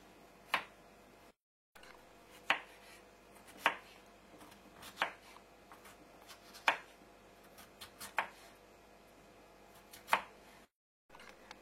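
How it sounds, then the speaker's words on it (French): A knife cuts a peeled potato into cubes, giving single sharp chops against a board at an even, unhurried pace over a quiet background. "éplucher et couper la pomme de terre en cubes"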